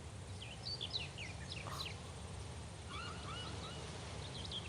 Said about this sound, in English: I love the sound effects on this one. Just the seagulls.